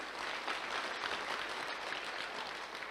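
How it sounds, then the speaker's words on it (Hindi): An audience at a network marketing leader's speech gives a big round of clapping, a thick, unbroken wash of many hands that stays level from start to finish with no voices. "परम पिता परमेश्वर के लिए एक जबरदस्त ताली होनी चाहिए"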